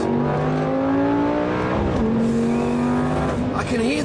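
Lamborghini Gallardo SE in sport mode accelerating hard from inside the cabin, the engine drone climbing steadily in pitch, dipping briefly at a gear change, then rising again, loud and continuous under a voice.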